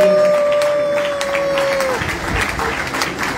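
Applause and cheering from an audience at an evening gospel concert honouring a singer, a dense, steady roar of clapping that runs throughout, with a held sung note fading out early on.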